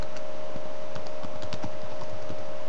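Someone types an email address on a computer keyboard, a quick irregular run of close, crisp key clicks over a steady electrical hum, with no talking.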